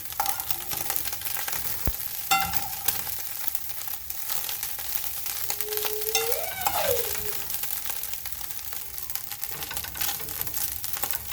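Small omena fish frying in a pan while being stirred and turned so they don't burn, a steady close sizzle with scraping stirs and a few sharp clinks.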